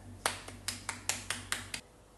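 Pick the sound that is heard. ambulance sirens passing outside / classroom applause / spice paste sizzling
classroom applause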